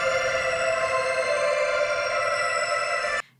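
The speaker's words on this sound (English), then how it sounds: "I'm going to be using the OP1," An OP-1 synthesizer run through a Strymon Big Sky reverb holds a dense, sustained tonal drone, loud and steady, then cuts off abruptly near the end.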